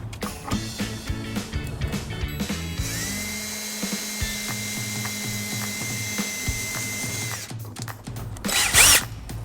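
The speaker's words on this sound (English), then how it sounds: "We're just going to put a couple of small holes in the bottom of the fascia" A power drill cuts a couple of small holes in the bottom of a 2014 Ford Escape fascia, the motor whirring close by in short bursts and one longer steady run, with clicks and handling noise between.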